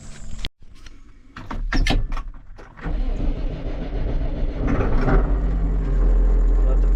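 A 6495 tractor engine cranks and starts, with a door clunk and clatter first, then a low diesel rumble that builds and settles into a steady idle close by, under some talk.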